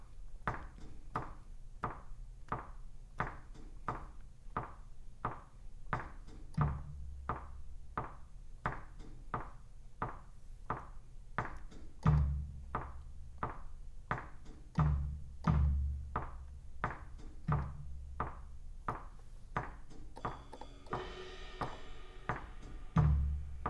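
Steady, evenly spaced taps tap out a rhythm beat for a Rhythm Rondo exercise, with deeper thumping accents layered in at intervals and a busier flurry of hits near the end.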